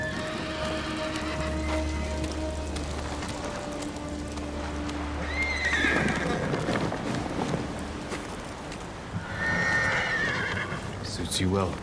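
A horse in the video game Ghost of Tsushima gives a high whinny and a snorting neigh, with hooves and light rain behind, while someone speaks over the horse for much of the time.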